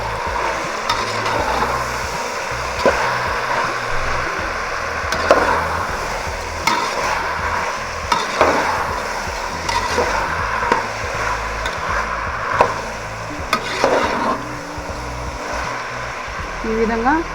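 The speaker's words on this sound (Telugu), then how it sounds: "అన్నీ వేసినాక ఇప్పుడు మనము చక్కగా తిప్పుకుందామండి" Spices, salt and vegetables for a vegetable rice pulao are stirred in a pan. Regular scraping strokes land every second or so over a low sizzle, while someone talks throughout.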